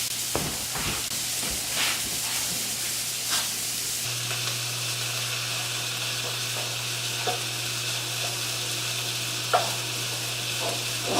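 Food browning hard in a hot frying pan, a steady loud sizzle and hiss running throughout, with a few faint clinks of stirring early on and a low kitchen hum underneath.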